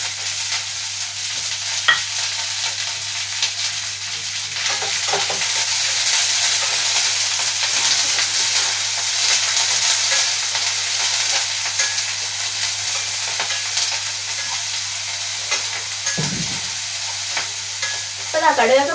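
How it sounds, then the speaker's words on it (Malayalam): Mustard seeds popping with garlic, onion and curry leaves frying in a pan, a loud continuous sizzle and hiss for the whole stretch with scattered pops and occasional stirring clatter, no talking. "അപ്പോൾ അതാ ഞാൻ കുറച്ച് കടുക് പൊട്ടിച്ചതിന് ശേഷം വെളുത്തുള്ളി ഇട്ട് കൊടുക്കുന്നുണ്ട്."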